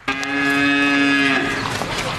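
A single long, loud moo from a cow on a large livestock farm with hundreds of cattle, close by and sustained for over a second before trailing off.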